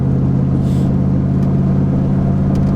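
A Fox body Mustang on dry-rotted tires drives off after a fresh gearbox fluid top-up, its engine a loud, steady close-up drone with a constant low hum throughout.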